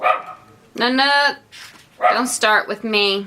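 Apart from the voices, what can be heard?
dog barking at someone at the door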